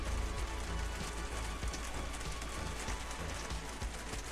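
A heavy downpour drums steadily and loudly, a thick continuous wash of rainfall with occasional sharper spatters and no speech.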